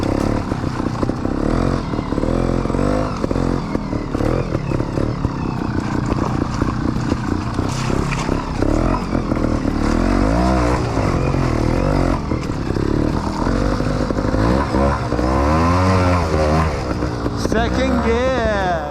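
Trials motorbike climbing a section in second gear, engine note rising and falling with throttle blips and revs close by, steady and loud throughout, with a voice talking over it.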